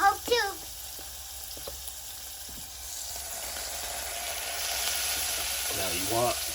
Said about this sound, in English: Okay, now that this is brown, I'm gonna make a roux.